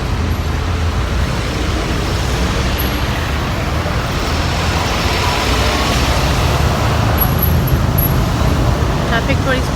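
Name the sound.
road traffic in Kuala Lumpur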